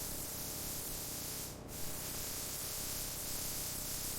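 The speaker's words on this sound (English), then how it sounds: "Black paint spray." Black paint sprayed onto a car body in a paint booth, a steady close hiss of spray that continues without a break, with a brief dip partway through and no voices.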